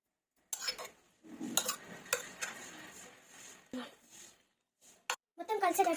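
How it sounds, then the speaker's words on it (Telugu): Mutton curry mixture with turmeric and ginger-garlic paste being stirred in a metal pot, giving intermittent scraping and clinking spoon strokes in short bursts, with a faint sizzle and some speech between strokes. "ఇప్పుడు మొత్తం కలుపుకుందామండి."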